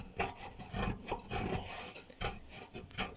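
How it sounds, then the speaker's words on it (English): Abrasive rubbing and rasping inside a rusty steel fuel tank from a Honda CB125 RS during restoration, a series of close, loud scrubbing strokes in an uneven rhythm with no talking. "I might try and just get in the inside of that and give it a rub."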